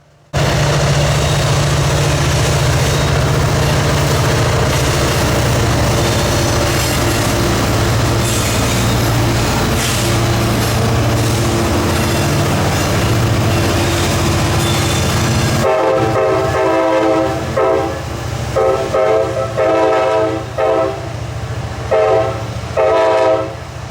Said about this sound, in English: I thought I heard rumbling. Then someone shouted, "There's another train!"